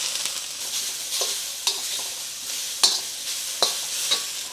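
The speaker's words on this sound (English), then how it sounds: "I'm going to add my mushrooms and shallots." Mushrooms and shallots frying in oil in a pan for vegetable Chinese dumpling filling, a constant close sizzle broken by several sharp spatula scrapes and taps at irregular intervals, no voices.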